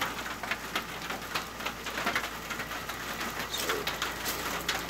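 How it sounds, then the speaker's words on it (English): Steady rain patters on a surface outdoors at night, a dense continuous hiss with scattered drop ticks, while birds coo faintly in the background. "y'all guys don't have to hear this damn rain"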